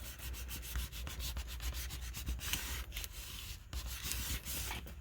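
A small hand scraper rubs and scrapes over a Dollar Tree wooden pallet sign, a close run of quick rhythmic strokes with a short pause midway, no voices.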